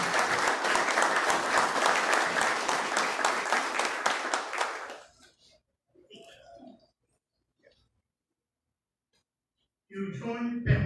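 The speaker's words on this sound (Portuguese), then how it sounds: "Eu peço uma salva de palmas." An audience at a municipal council solemn session in Humaitá, honouring new honorary citizens, applauds loudly and steadily for about five seconds before it fades to near silence; faint scattered sounds follow, then a voice speaks at the end.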